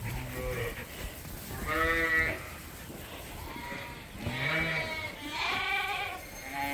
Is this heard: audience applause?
no